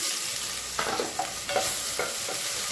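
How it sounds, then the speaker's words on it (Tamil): Three tablespoons of ginger garlic paste sizzle and sauté in hot oil for chicken biryani, a steady close fry broken by rhythmic scrapes of a spoon stirring the pan. "இதில் 3 டேபிள் ஸ்பூன் இஞ்சி பூண்டு பேஸ்ட் வந்து சேர்த்து வதக்கிக்கலாம்."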